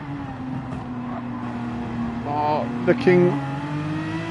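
Racing cars, a Hyundai and a Genesis among them, roar with a steady engine drone that swells as one revs hard, struggling for traction on soft tyres, while a commentator talks over the noise.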